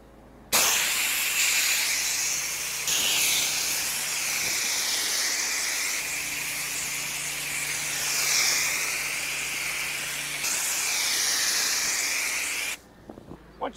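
A steady loud hiss of a water spray rinsing down the side of a travel trailer, close up and continuous for about twelve seconds with slight swells as the stream moves, then stopping.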